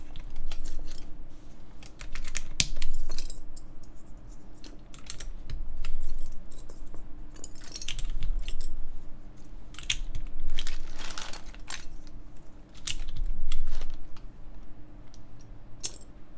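Keystrokes clatter on a QK Neo60 Cu mechanical keyboard with MX Brown switches and GMK keycaps, heard up close as quick, uneven bursts of soft clacks that swell and ease in waves.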